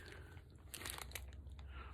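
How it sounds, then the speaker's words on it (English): A pet gnaws and crunches on a plastic Madballs toy close by, with a string of crisp biting and crunching bursts that come irregularly over low background rumble. "You are not chewing up Madballs."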